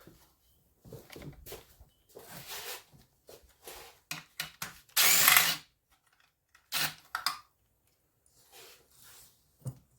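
A power tool whirs in short, separate bursts while loosening bolts on a small block Chevy 350 engine, with clunks and rattles of parts between the bursts and quiet gaps.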